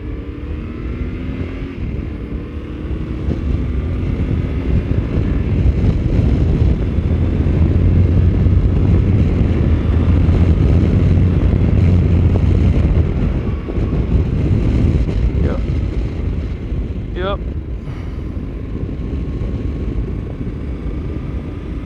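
Steady roar of wind rushing past a rider on a Yamaha Ténéré 700 motorcycle with a touring windscreen, broadband and continuous with buffeting swells, the engine drone low underneath and a couple of brief higher whines near the end.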